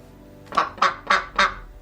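A recovering duck, her foot healing from bumblefoot, gives four loud, evenly spaced quacks close by on a rainy homestead, each call short and raspy, with no talking.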